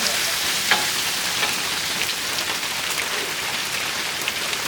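Heavy rain falls steadily as a dense, even hiss of drops on surfaces, continuous and fairly loud, with no talk.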